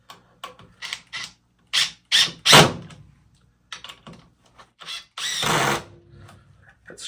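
A DeWalt DCF850 brushless impact driver runs at its second speed as it drives a screw, giving several short rattling bursts and one longer burst between quiet pauses.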